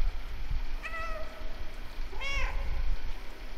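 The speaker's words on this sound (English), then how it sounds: "I love that I have a dedicated meow button." Two separate cat meows from the video game Stray, each a rising-and-falling mew, heard over steady game background ambience with no talking.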